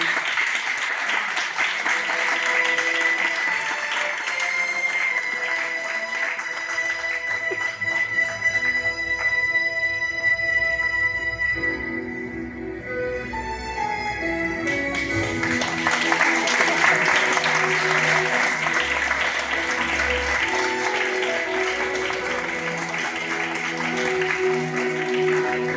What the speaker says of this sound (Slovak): Privítajme teda veľkým potleskom pani prezidentku subsídia z doprovode jej osobného strážku.